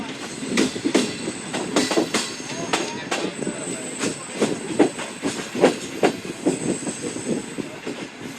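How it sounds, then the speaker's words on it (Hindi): The Shalimar Express locomotive and coaches rolling into a station platform, heard as a steady clickety-clack of wheels over rail joints with a faint hiss, close and moderately loud. "अभी प्लेटफॉर्म एंटर कर चुका है लोकोमोटिव और हम भी कर जाएंगे।"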